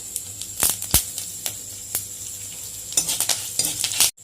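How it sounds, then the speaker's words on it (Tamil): Mustard seeds pop and crackle in hot oil with dried red chilies and urad dal, a steady sizzle broken by sharp, scattered snaps at close range, with no talking. "கடுகு வெடிக்க ஆரம்பிச்சிடுச்சு. இப்போ காஞ்ச மிளகாயும் உளுத்தம்பருப்பும் சேர்க்கணும்."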